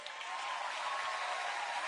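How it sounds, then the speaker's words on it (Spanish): Concert audience applauding a rock band's performance, a dense, steady wash of clapping that swells slightly and holds at a moderate level, heard from within the crowd with no voices over it. "Fuerte aplauso, por favor."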